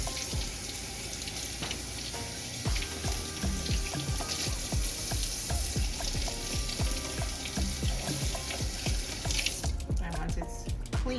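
Tap water runs steadily into a sink while prawns are rinsed, a close continuous splashing hiss with small knocks and handling clatter that ends abruptly near the finish.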